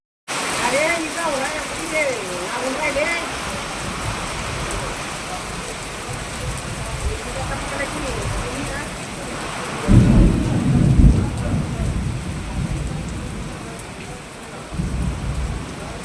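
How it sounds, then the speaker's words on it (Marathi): Sudden unseasonal rain pours over Buldhana city with thunder, a steady broadband roar of rainfall hitting surfaces, swelling louder around the middle and again near the end. "बुलढाणा शहरात अचानक अवकाळी पावसाने हजेरी लावले"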